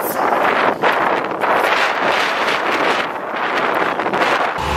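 Wind blows outdoors along a street, buffeting the microphone with a loud, continuous rumbling rush that swells and eases slightly throughout, with no voices.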